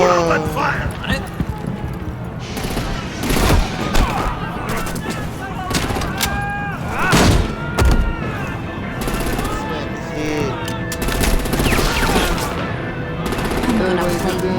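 Gunfire in a Batman video game, bursts of rapid machine-gun shots and single reports recurring across the clip, mixed with game music, effects and voices speaking.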